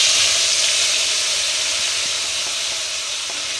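Ginger, onion, green chilli and garlic paste sizzling in hot oil, a loud steady hiss that fades slightly over time, heard alone.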